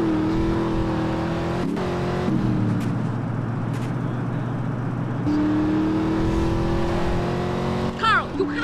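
Car driven in GTA San Andreas, a steady engine drone with gear-like pitch shifts, continuous and fairly close, with a brief higher whine near the end.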